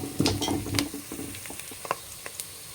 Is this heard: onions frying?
yes